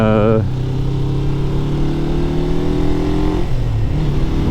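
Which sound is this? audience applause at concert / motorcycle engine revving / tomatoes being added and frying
motorcycle engine revving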